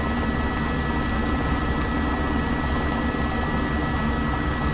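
An H125 helicopter in X-Plane 12 whirs with a steady, loud engine and rotor drone, a constant broad roar with a faint whine on top.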